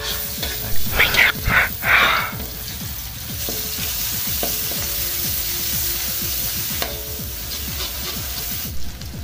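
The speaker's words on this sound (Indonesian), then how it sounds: "sekarang aku mau tumis bumbunya ya, bumbu yang udah direndos" Soaked spice paste sautéing in used cooking oil for Sundanese cibay snacks: a constant close hiss and crackle, with a few scraping stirs near the start and a voice speaking softly over it.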